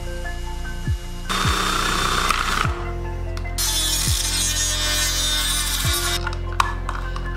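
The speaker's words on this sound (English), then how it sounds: "Then, I use spade bit to drill the box." A spade bit drilling into a switch box, a loud continuous grinding whir that rises and falls as the bit bites and eases off, with repeated pitch sweeps as the motor spins up.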